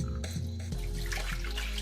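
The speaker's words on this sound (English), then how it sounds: "In my water bottle, I already have 12 cups of water. So I'm gonna transfer this into my measuring cup," Water pours from a water bottle into a measuring cup, a steady splashing trickle that shifts in pitch partway through, close and moderately quiet, with no talking.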